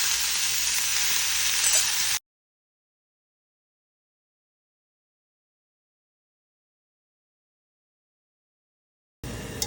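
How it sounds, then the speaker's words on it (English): Chopped banana stem dropped into a hot pan of sizzling tadka for a South Indian poriyal, giving a loud, steady, close frying hiss that stops abruptly and returns briefly at the end. "we'll add the banana stem"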